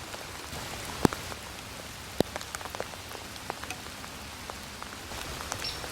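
Rain patters steadily on a garden, a soft, even hiss at close range with occasional sharper drips and taps standing out from the wash.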